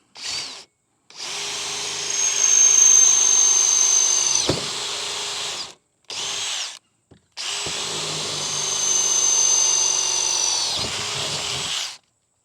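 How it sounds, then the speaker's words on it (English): A power drill bores a hole while a Freedom Launcher is installed on a Frontier 12 kayak. Loud sustained drilling comes in several bursts separated by short pauses, with the motor whine holding steady, and no talk is heard. "nothing walks while I'm drilling that second hole"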